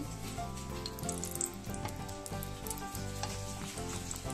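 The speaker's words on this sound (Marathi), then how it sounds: "तूप छान गरम झालंय." Ghee heating in a pan gives a steady, close sizzle and crackle with dense continuous frying noise and no voices.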